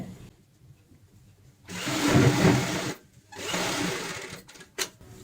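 Sewing machine stitching a cushion cover in two bursts of rapid whirring, the first longer and the second shorter, separated by a brief pause, followed by a few small clicks.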